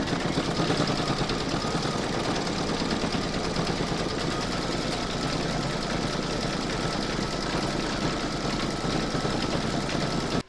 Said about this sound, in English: stitch round number 19, and that's going to do the satin stitch around the third heart